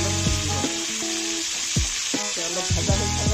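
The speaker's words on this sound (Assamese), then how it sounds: "অলপ ভাজা হৈ থাকক" Brinjal pieces fry in a pan with a steady, close sizzle and crackle, joined by occasional clinks and knocks of a utensil against the cookware; background music plays throughout.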